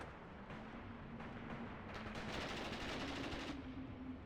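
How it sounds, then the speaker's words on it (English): Machine guns fire in the WWII strategy game Mius Front during a nighttime attack on a farmstead. Bursts of rapid, overlapping gunfire come from a moderate distance and swell into a denser fusillade. "Here we can hear our MGs opening up."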